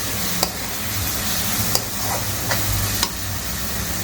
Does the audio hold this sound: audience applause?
no